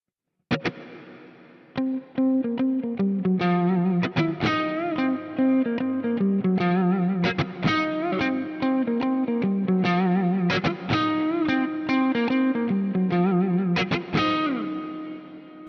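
An electric guitar played through the Neural DSP Archetype Plini X plugin at its default setting: a loud, continuous, effects-heavy playthrough of distorted chords and melodic lines with chorus and reverb, no talking.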